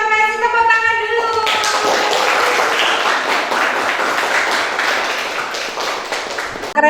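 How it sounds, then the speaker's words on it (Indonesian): A classroom audience claps loudly and steadily for several seconds, with the applause starting after a brief spoken phrase at the beginning. "tepuk tangan dulu"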